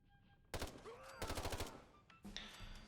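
Assault rifle gunfire from a RU556 mod in a Fallout video game: two quick automatic bursts over ambient game sound, fairly faint and distant, followed by a sharp metallic clatter.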